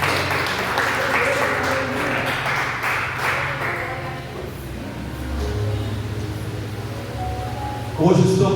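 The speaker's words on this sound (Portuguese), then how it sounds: "Pode aplaudir Jesus" Brief congregational applause at an evangelical church service, clapping over a sustained music bed in the first half, then fading as the music continues and speech begins.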